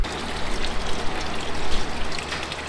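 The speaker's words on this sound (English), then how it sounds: "I'm gonna fill this thing up with a little bit of fluid" Creek water mixed with Simple Green aircraft precision cleaner pours into a lawn mower carburetor cleaning setup, a steady close trickle and splash running unbroken without any talk.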